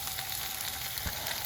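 Corned beef fries in oil in a pan, a dense, close sizzle with a brief stirring scrape partway through.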